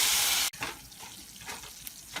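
A loud burst of sizzling hiss cuts off abruptly, followed by quieter bubbling and crackling, as a spoonful of water hits melting jaggery.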